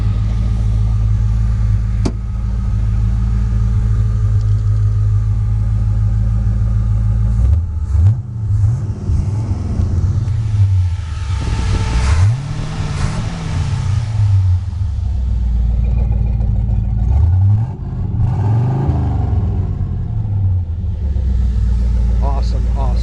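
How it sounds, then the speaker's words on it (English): A classic car engine idles with a deep, steady rumble, then is revved several times, each rev swelling and falling back, close and loud throughout. "check the engine out and rev it up a little bit so you can hear this motor"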